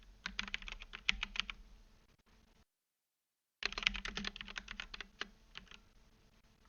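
Close, quiet clicking of a computer keyboard as a name and description are typed, in two quick bursts of keystrokes separated by a brief silent gap.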